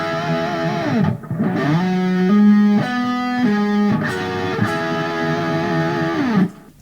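An electric guitar lick with distortion, with sustained bent notes and pitch wobbles from finger vibrato, played alone and loud for several seconds before the final note falls away.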